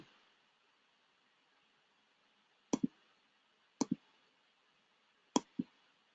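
A computer mouse clicked to open a statistics program's data file: three quick double-clicks spaced a second or more apart, crisp and close against a quiet, faintly hissing room.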